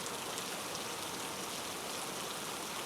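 Heavy monsoon rain falling in Mumbai, a steady soft hiss of downpour on surfaces, even and continuous at moderate distance, with no voices.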